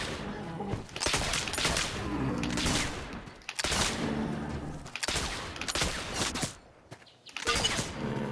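Repeated gunfire from hunting in The Oregon Trail video game, several loud bursts and shots in quick succession, separated by brief pauses, with a voice talking faintly in places.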